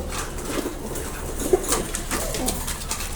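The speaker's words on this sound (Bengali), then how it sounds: "তিন পেয়ার কবুতর আছে" Pigeons of an imported Teddy bloodline coo softly in a loft, a few low murmuring calls over steady background noise with a faint flutter of wings, no talk.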